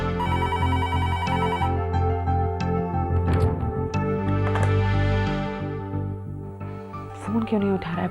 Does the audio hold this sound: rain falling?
no